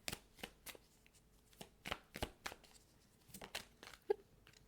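Tarot cards being drawn and shuffled by hand in a quiet room, a series of soft, crisp card slaps and slides at an uneven pace, close and fairly faint, with no talking.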